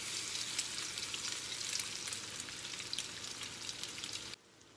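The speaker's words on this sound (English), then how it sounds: "So basically you want to kind of make almost like a patty, and then drop it in the skillet." Salmon croquette patties fry in a skillet with a steady, dense crackling sizzle that holds evenly throughout and drops away abruptly just before the end.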